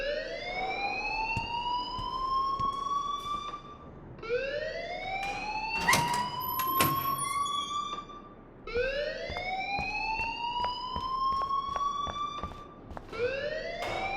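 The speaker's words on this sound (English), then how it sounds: "please turn off that alarm since that's your job" A school fire alarm rings in the video game Life is Strange. It is loud and repeating, with rising whooping electronic tones and short gaps between cycles, and nothing else is heard over it.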